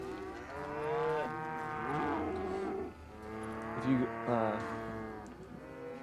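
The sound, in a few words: cows mooing in Call of Juarez Gunslinger video game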